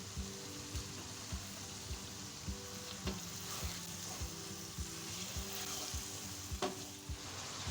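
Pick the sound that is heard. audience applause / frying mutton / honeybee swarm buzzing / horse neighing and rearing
frying mutton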